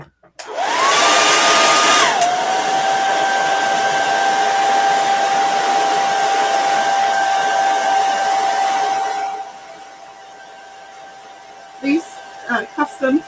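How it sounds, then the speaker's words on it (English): A blow dryer dries ink on a chalk-transfer project for custom dish towels, whirring loud and close with a steady whine for about nine seconds before cutting out, followed by a few brief handling clicks. "So I'm going to switch to my blow dryer so I can get a little more"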